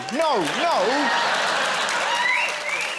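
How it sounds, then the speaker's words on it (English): Studio audience on a comedy panel show cheering and applauding, a dense crowd roar throughout with a voice speaking over it near the start and again toward the end. "Why are you cheering that?"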